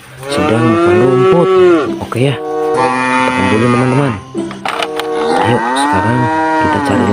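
A cow mooing loudly and close by at a livestock pen, in three long, drawn-out bellowing calls with short breaks between them.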